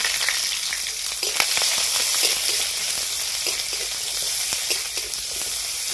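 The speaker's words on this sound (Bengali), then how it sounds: "এবারে দিয়ে দিব সরিষার তেল দিয়ে দিব দুটো শুকনা লঙ্কা দুটো কালো জিরা ফোড়ন আর পেঁয়াজ কুচানা দিয়ে দেব" Chopped onion, dry red chillies and nigella seeds sizzle steadily in hot mustard oil, a continuous close crackle with faint scraping of a stirring spoon, no voices.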